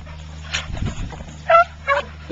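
A hunting dog gives a few short yips and whimpers close by during a rabbit hunt, with soft high whines between them over faint background hum.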